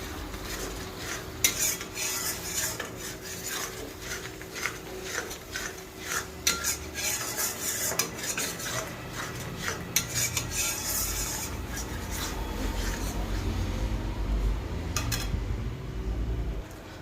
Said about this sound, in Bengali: এবার আমি দিয়ে দেবো কাজু পোস্ত আর চারমগজ বাটাটা। এটা দিয়ে একটু ভালোভাবে কষিয়ে নেব।